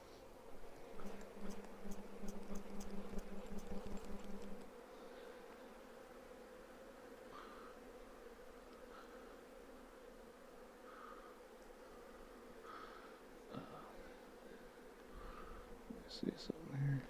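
Honey bees buzz around an open hive box during an inspection, a steady faint drone with a louder stretch near the start and soft handling noises scattered throughout.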